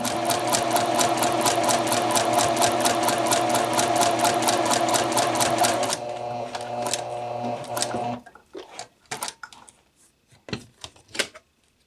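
Sewing machine stitching bound buttonholes runs in a steady, loud rapid rhythm, slows into a lighter patter, then stops, leaving a few scattered clicks and handling sounds.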